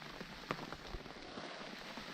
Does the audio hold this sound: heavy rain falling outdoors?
yes